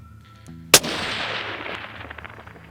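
A single sharp rifle shot from a Remington 700 chambered in .223, fired at a long-range target around 1,000 yards, cracks loudly and then trails off in a long fading echo, with no talk.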